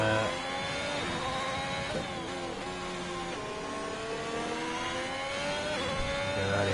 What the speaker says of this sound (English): Early upshift through the banking here